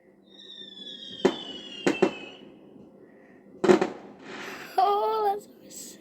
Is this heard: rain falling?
no